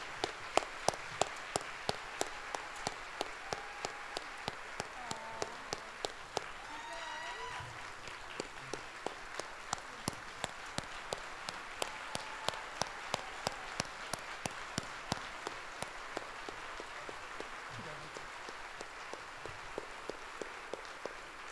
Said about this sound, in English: please join me in again giving them a huge round of applause for making a difference